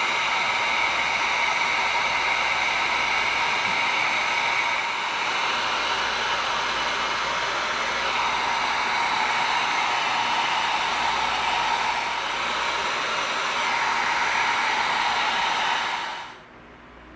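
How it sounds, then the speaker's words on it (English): A heat gun blows hot air over EVA foam pieces to seal them, a loud, steady, close rushing roar lasting about sixteen seconds before cutting off abruptly, with no speech. "Now what we're going to do is we're going to bring in our heat gun."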